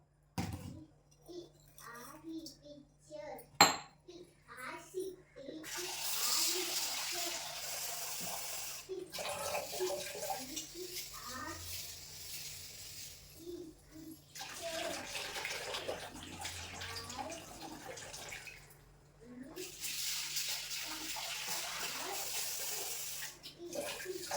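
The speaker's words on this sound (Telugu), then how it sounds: "పెసలు అయితే ఈ క్వాంటిటీలో తీసుకున్నాను సో ఇప్పుడు బాగా వాష్ చేసుకుందాం" Green gram (moong beans) are washed in water, with intermittent bursts of splashing and running water, fairly quiet, and faint voices in the background.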